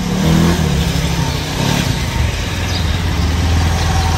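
A modified Bajaj Pulsar 220F with an aftermarket swingarm rides slowly, its engine rumbling and revving at close range with a varying low drone and road noise.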